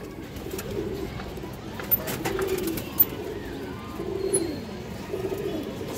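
Pigeons at a seller's loft coo in soft, repeated throaty phrases, close by, with a few faint sharp clicks and light background noise.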